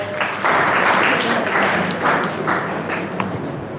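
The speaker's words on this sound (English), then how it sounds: "Give her a good round of applause" Applause from an audience at a motivational talk on time management, a dense steady patter of clapping that swells after a brief start and continues fairly loud throughout.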